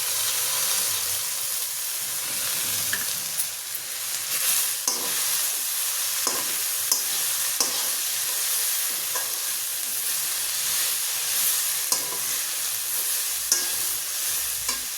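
Drumstick leaves fry in a pan with tomato, a steady bright sizzle and hiss running throughout, broken by repeated short scrapes and clicks of stirring.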